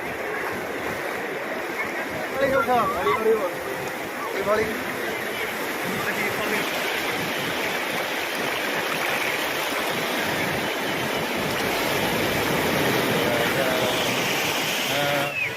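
Sea waves at Puri beach wash in with a constant broad rushing roar, loud and close, while someone talks intermittently over the surf.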